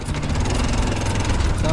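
A small tricycle motorcycle engine runs steadily with a rough, throbbing drone, close by and fairly loud throughout.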